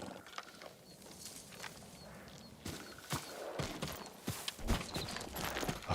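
Hooves of a farm horse clip-clop at a stable in the video game Ghost of Tsushima, with irregular sharp steps that grow louder and closer toward the end, over a soft ambient background.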